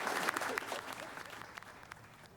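Applause from an audience at a West Bloomfield board meeting honoring a retiring police chief, a steady patter of clapping that fades gradually over a couple of seconds, with faint voices beneath.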